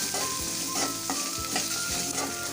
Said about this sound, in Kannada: ಈಗ ಈರುಳ್ಳಿ ಒಂದು ಸ್ವಲ್ಪ ಸಾಫ್ಟ್ ಆಗೋ ತನಕ ಫ್ರೈ ಮಾಡ್ಕೊಳ್ಳೋಣ.